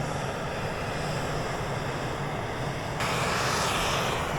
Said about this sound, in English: A small plane somewhere.